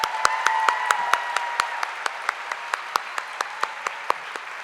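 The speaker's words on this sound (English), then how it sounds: "let's give our 2023 Secondary Teacher of the Year one more round of applause." An audience at a teacher of the year gala applauds, with crisp, evenly spaced claps ringing out in a large hall and fading off slowly toward the end.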